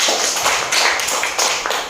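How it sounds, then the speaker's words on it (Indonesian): Schoolchildren in a classroom give a student a short round of applause, a few quick bursts of hand clapping rising and falling close by. "tepuk tangan dulu untuk Vanessa"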